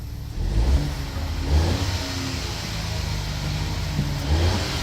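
A Ford 1.0 EcoBoost engine runs after a flexi pipe repair, its exhaust giving a low, steady rumble close by with a couple of light blips in revs.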